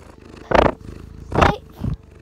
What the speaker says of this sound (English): you are torturing your kitty